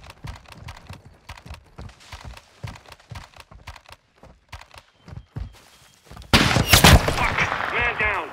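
Gunfire from a sniper attack in the Call of Duty: Modern Warfare 2 (2022) campaign, with scattered muffled thuds and footsteps leading into a sudden loud crack and echoing burst near the end.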